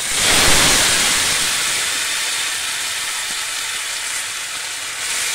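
Flat beans sizzle hard in a hot pan with ajwain, a loud, dense, steady hiss that peaks early and then settles, heard up close with no talking.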